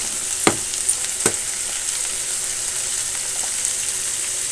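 Chopped vegetables and large onion pieces frying in a kadai for veg curry, a constant hiss of sizzling oil with two sharp stirring knocks early on, no talking.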